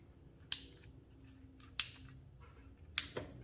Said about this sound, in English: Plug in the harness, make sure to hear it click.